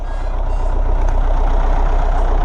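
A tractor used for hauling manure idles on a farm and cannot be switched off because its dead battery would not restart it. It makes a loud, steady, close diesel drone that does not let up.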